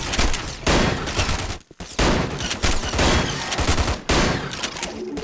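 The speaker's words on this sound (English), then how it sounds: "Decent shot and loading sound effects too, with a good rate of fire, not sluggish." Shotgun blasts from a first-person shooter video game, loud heavy reports fired in quick succession with a brief gap of reloading, close and dense with no talking.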